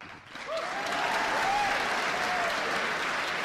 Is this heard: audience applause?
yes